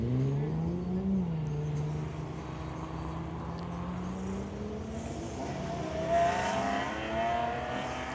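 Sports cars pull away at a Ferrari gathering, with engines revving and accelerating, rising and falling tones as several cars drive off nearby amid steady crowd ambience.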